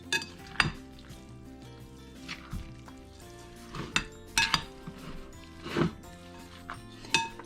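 Meatloaf ingredients being mixed by one hand in a bowl, giving scattered clinks and soft squelchy knocks against the dish at irregular intervals, fairly close and moderately quiet, with no talking.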